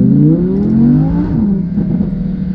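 A 610 HP Audi R8 V10 Plus at full throttle from low speed, loud and close, its engine note climbing steadily in pitch, then a brief dip and renewed pull as it keeps accelerating.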